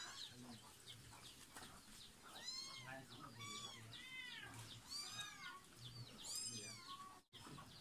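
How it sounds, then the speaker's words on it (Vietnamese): Three cats meowing inside an old house, a run of repeated, close, rising-and-falling meows that overlap one another, with a voice talking and a faint low background hum. "Mấy con mèo này. Ba con mèo này."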